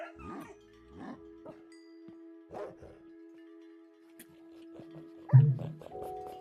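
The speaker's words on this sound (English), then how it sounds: "We got puppies." Puppies yipping and whimpering close by, short high barks scattered across the clip with a steady tone in the background and one louder yelp near the end.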